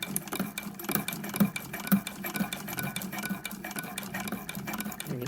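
A sewing machine with a ruffler attachment stitches steadily, its rapid mechanical chatter and rhythmic jabbing running continuously at close range with no talking.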